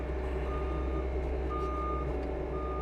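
A loader fitted with a Norden hay squeeze backs out from a dry van trailer loaded with hay bales, giving evenly spaced reversing beeps over a constant low engine rumble.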